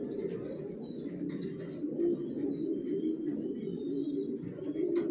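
Racer pigeons coo steadily in a low, continuous murmur of overlapping calls, with faint higher chirps and tweets scattered over the top, close by.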